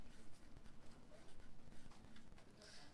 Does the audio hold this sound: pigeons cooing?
no